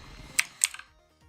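A mechanical computer keyboard clacks during a PC game, a few sharp, close keystrokes in quick succession with no talk.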